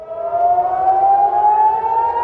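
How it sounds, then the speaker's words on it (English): A loud air raid siren in Israel wails steadily, its pitch slowly rising as it sounds alone for a couple of seconds. "sirens sounded in Israel, initially among border communities"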